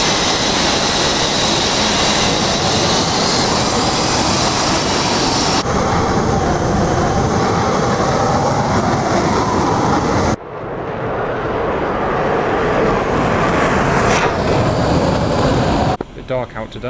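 A military jet takes off in the DCS flight simulator game, producing a loud, continuous engine roar that builds and shifts across several abrupt cuts. The roar plays alongside radio-style talk.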